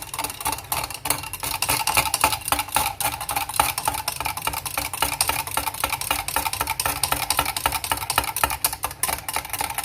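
A homemade aloe vera shampoo mixture is stirred in a container, producing a continuous fast clicking and scraping rhythm, close and fairly loud, with no talking.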